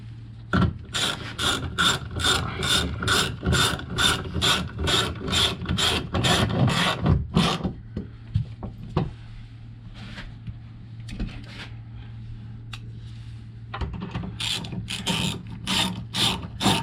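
A ratchet tightens a screw nut on a Lexus NX rear spoiler, giving sharp rhythmic clicking strokes up close, then a quieter stretch with scattered clicks before the steady ratcheting resumes.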